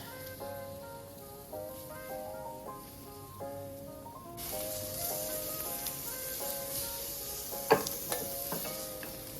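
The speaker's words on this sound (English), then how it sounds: "I'm just going to remove the shrimp from my pan" Shrimp sizzling and crackling in a hot pan as they are lifted out, a quiet steady fry that brightens midway, with a faint stirring clink and a short sharp knock near the end.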